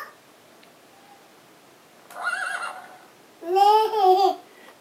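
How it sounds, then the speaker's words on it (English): A horse neighs twice, first a shorter whinny and then a louder, longer one after a short pause, against a quiet background. "What makes that sound? A horse."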